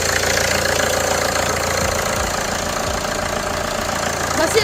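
A turbo diesel engine idles loudly and close, a steady mechanical rumble with a light knocking rhythm running the whole time.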